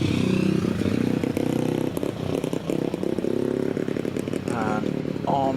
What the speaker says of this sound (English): Through the S's then goes the Ducati.